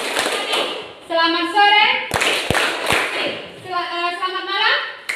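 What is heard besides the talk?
class of children clapping hands on cue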